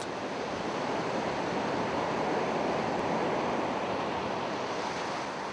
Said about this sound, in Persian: شتاب سنگین موج بر پیکر عریان صخره‌ها آوای آشنای بندرنشینان است